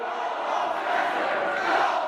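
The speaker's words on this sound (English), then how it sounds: "The crowd standing and shouting, "Go home."" A university auditorium crowd shouts and boos a speaker, a dense, loud wall of massed voices swelling slightly toward the end.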